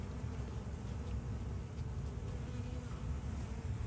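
Honey bees buzzing in an open hive during an inspection, a soft, steady drone of many insects close by, faint and unbroken with no talk.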